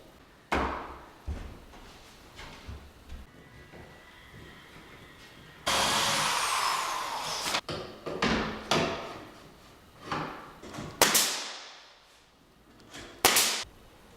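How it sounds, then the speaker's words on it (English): An interior door being installed between a small bedroom and a kitchen in a farmhouse under construction, with scattered knocks, thuds and scrapes, a sustained whooshing noise and a few sharp bangs, all close by. "now we're going to put in the door that goes actually to the small bedroom into the kitchen"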